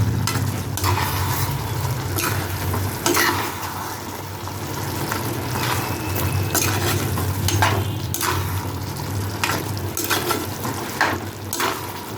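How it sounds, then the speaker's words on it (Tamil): Mushrooms sauté in a pan toward golden brown, giving a steady close sizzle broken by repeated scraping and clattering strokes of a spoon against the pan. "நல்லா வதங்கணும், நல்லா கோல்டன் ப்ரௌனாக வதங்கணும்."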